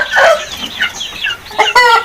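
Chickens on an Indonesian farm clucking close by, a run of short bursts with a louder squawk near the end, heard alone with no talk.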